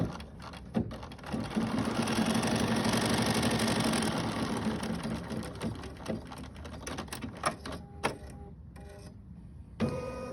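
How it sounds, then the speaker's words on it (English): Embroidery sewing machine running a quilting placement line in the hoop to tack down fabric, a steady continuous motorized whir and stitching buzz that tapers off into intermittent clicks and a few short bursts near the end. "I'm going to allow the machine to run a placement line and tack this piece down."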